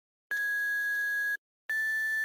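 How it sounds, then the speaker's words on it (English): Ringing synth sound effect built with a 3x Oscillator, two bright sustained electronic tones, each about a second long with a short gap, clean and steady with no voices. "This ringing sound effect. This was made out of 3x oscillator."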